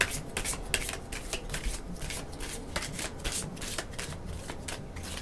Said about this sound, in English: Sorry for the sound of the cards.